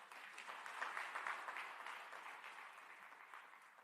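Sustained applause from a conference audience in a hotel hall, a dense steady wash of many hands clapping at a moderate distance, with no voices standing out.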